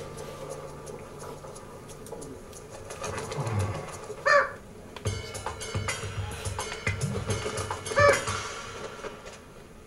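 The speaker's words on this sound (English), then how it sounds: "Would someone explain what that bird is doing in my hospital?" Inside a hospital, a pigeon-like bird gives two short calls amid wing flaps and busy room noise.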